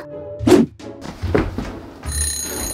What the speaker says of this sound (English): Alarm clock, phooey.